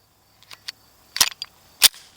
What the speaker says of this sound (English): Let me take this mag out, let the slide go home.